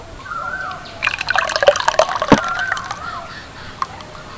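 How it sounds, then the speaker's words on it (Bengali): A thick mango yogurt mixture for mishti doi is poured from a container into a pot, giving a close, wet pour with splashy drips and glugging for a few seconds, then a softer trickle as it ends. "এবার এই মিশ্রণটাকে খুলির মধ্যে নিয়ে নেব"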